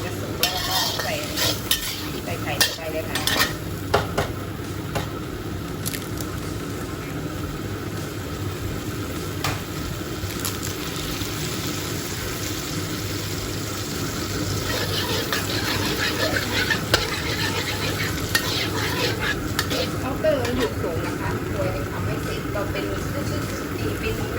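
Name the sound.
stir-frying squid in a pan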